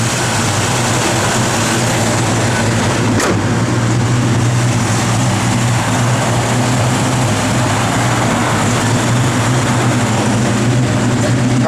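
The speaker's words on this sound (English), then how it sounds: "Car's got a great sound to it." A 1966 Chevrolet Chevelle SS V8 engine idles steadily and loudly with a deep rumble and a slight belt squeak, constant throughout with no talking.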